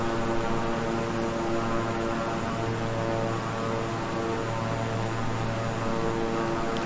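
A twin-engine King Air 350i in Microsoft Flight Simulator drones steadily, a loud, even propeller hum with engine tones that shift slightly as the throttle is pulled back, with no talk.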